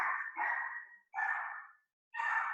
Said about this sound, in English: Again, I apologize for my dog in the background.